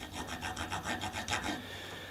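A thread file rasps back and forth along damaged bolt threads, cleaning out old grease and grime; about ten short, even scraping strokes follow one another in a steady rhythm, close up and moderately loud, with no talk.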